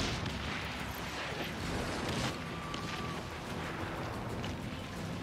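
Ship cannon fire in the pirate naval game Skull and Bones: a dense, continuous rumble of booming artillery blasts and crackling impacts, loud and sustained, with no talk over it.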